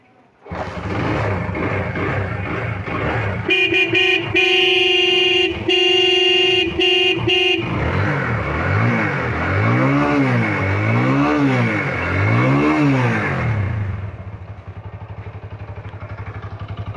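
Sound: Wuyang 125cc motorcycle horn and engine revving

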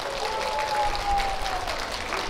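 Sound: applause at festival closing ceremony

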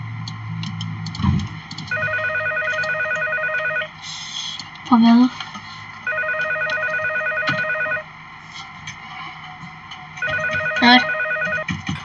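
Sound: phone call ringing

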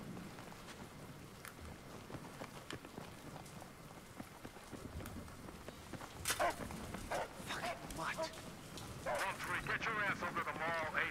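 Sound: dogs barking in Battlefield 3 video game

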